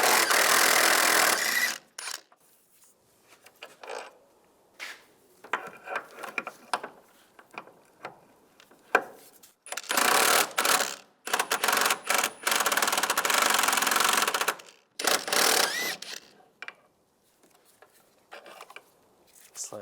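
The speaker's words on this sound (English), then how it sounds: "using a 16mm socket, take the two bolts off the back side of the mount." Bursts of ratcheting and clanking as a 16mm socket works engine mount bolts loose on a 1999-2005 Volkswagen Jetta during a water pump job, close and intermittent with pauses between turns.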